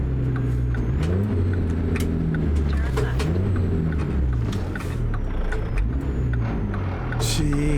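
Heavy truck in American Truck Simulator, an old-school Mack Pinnacle, rumbling steadily with engine tones rising and falling as it brakes and shifts, short air-brake hisses over the continuous drone, with someone talking throughout.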